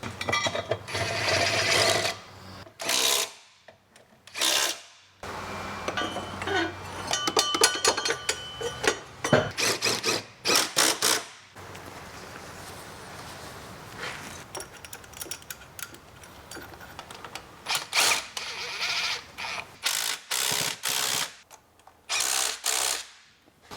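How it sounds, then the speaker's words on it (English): Flat sander working on clutch housing flanges of a Ford Falcon, giving intermittent rapid buzzing and rattling bursts with short pauses, up close and fairly loud. "So that's a flat sander. I'm going to try and flatten those flanges out with and get them to seal a bit better."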